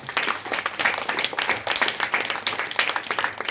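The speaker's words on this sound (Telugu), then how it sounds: "మరి గట్టిగా చప్పట్లు కొట్టండి." A congregation at a Catholic street prayer service for St. Anthony in Gollaprolu parish bursts into sustained, dense applause, many hands clapping steadily and loudly throughout with no pause.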